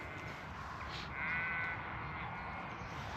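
A single sheep bleats in a field beside the Grand Union Canal, a short wavering call at moderate distance over steady outdoor ambience.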